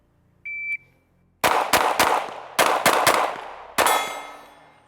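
A shot-timer beep, then six sharp pistol shots from a Sig P365 XL Macro fitted with a Radian Ramjet, fired outdoors in quick uneven pairs with ringing decay, loud and close.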